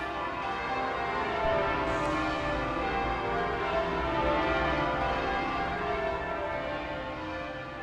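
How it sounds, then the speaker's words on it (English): Dense, continuous change ringing of church bells, a touch of step and six, overlapping rounds of tones sounding steadily throughout with no talking. "ringing a touch of step and six on your respective bells"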